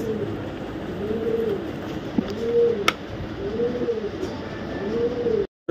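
Purebred racer pigeons coo in a close, rhythmic series of rolling calls, repeating steadily at a moderate level, with a sharp click partway through.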